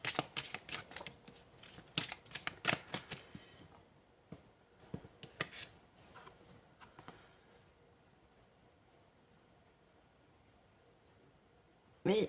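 A deck of cards shuffled to draw another card during a horoscope reading: quick crisp riffling and flicking bursts, close up, for several seconds before fading into near silence, with a brief clatter at the very end.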